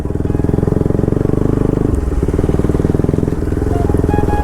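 A Bajaj Pulsar RS200 motorcycle runs with its raw exhaust on a muddy track, a loud, close, steady throbbing beat that shifts slightly in pitch partway through as the throttle changes.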